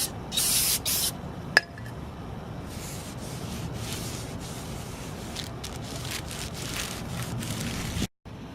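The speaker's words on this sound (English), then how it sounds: "Take some brake cleaner, clean up the new rotor." Brake cleaner sprays in bursts onto a new brake rotor during a brake disc and pad replacement, giving a close, loud hiss at the start and then a steadier, softer spraying and dripping wash.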